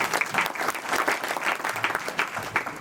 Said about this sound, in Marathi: टाळ्या वाजवा यांच्या करता.